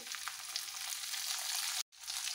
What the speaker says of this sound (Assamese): তেলত এখিনি কঁঠাল প্ৰথমতে ভাজি লম